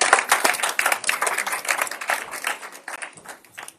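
A church congregation at a Sunday service claps together in praise, a steady, lively rhythm of many hands sounding fairly close and continuous throughout, with no talking.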